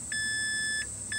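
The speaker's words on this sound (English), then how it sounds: "Sorry for the beeping." A 2005 Mazda 3's dashboard warning chime sounds with the key on during fuel pump replacement: clear, close, high electronic beeps, one long tone followed by the start of another, with no one speaking.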